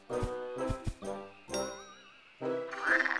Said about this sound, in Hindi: अरे ये तो मेंढक है।